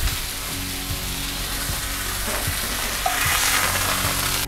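Deer tenderloins searing in a hot pan, a continuous loud sizzle and crackle of frying meat with faint scraping as the pieces are turned, no voices.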